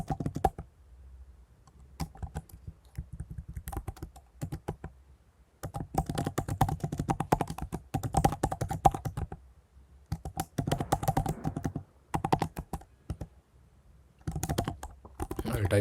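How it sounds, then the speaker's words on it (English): Typing on a computer keyboard while entering details in a software setup: bursts of quick, close key clicks separated by short pauses, with occasional talk in between. "I'll type my name."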